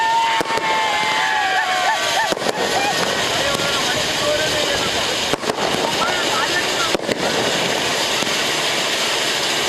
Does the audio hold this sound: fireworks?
yes